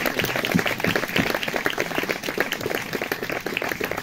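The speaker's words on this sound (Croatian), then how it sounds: "A molim vas jedan veliki topli aplauz, budite glasni za Marka Dejanovića." A stand-up comedy audience in Labin, Croatia breaks into applause for the comedian, a dense, sustained wash of clapping hands that holds steady and loud throughout.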